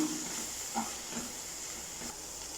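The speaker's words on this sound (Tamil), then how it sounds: "இப்போ இது எல்லாத்தையும் சேர்த்து பச்சை வாசனை போகிற அளவுக்கு நல்லா வதக்கிக்கிறலாம்" Masala spices with coriander powder and garam masala sautéing in a pan for a Tamil vada curry, giving a faint, steady sizzling hiss with no talk over it.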